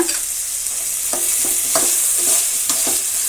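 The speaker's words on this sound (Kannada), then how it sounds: "ಫ್ರೈ ಆಗಲಿ ಈಗ" Vegetables and rice frying in a pan for gobi manchurian rice, with a steady sizzle and a few scraping stirs of a spoon at intervals, close and with no talk.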